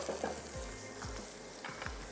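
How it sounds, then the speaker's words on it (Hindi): Ground cashew paste frying in a pan for makhni vegetables, a steady close sizzle broken by several scraping stirs of a spoon, with no talk. "पिसे हुए काजू या फिर काजू का पेस्ट थोड़ा सा फ्राई होने देते हैं।"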